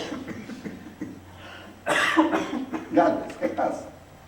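A person coughs several times in quick bursts, a couple of harsh throat-clearing coughs following a stretch of low background murmur, close to the listener.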